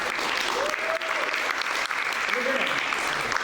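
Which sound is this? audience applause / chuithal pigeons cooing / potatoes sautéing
audience applause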